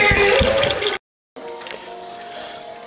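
Dark homebrew wort, coming out black after sparging from a cooler, pours into a boil kettle, a steady liquid rush with a brief break before a quieter trickle resumes, with children's voices faintly in the background.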